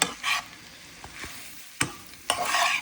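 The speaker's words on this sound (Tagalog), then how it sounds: "Haluin lang natin para mag-kulay." Onions being stirred in a pan for homemade chicken pastel, with a few scraping strokes and short bursts of soft sizzling, quiet and close, no voices.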